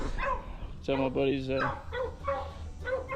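Hunting dogs bark and yip close by at a hog caught in a homemade trap, a burst of sharp barks followed by shorter yelps and whines, while someone talks over them.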